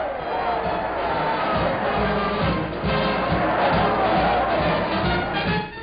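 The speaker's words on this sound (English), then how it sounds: "Here, too, a sizable crowd waited to cheer him." A sizable crowd gathered at the White House cheers Richard Nixon, a dense, steady roar of many voices that holds at an even level throughout, with no distinct speaker standing out.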